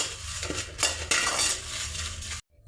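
Roasted dried red chillies tipped and scraped from a pan into another vessel, a steady dry rattle with metal scrapes and clinks of a utensil, ending abruptly.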